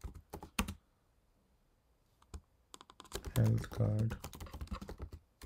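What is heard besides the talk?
typing on a computer keyboard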